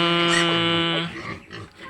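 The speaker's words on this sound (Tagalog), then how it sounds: "Hindi ko na i-video agad kasi ingay ng mga baboy ko." A pig lets out a loud, drawn-out squeal up close, then drops into a few short, rough grunts.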